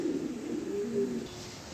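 Female pigeons, big-sized, make a low, steady cooing murmur through the whole stretch, fairly close and unbroken, with a soft hum under it.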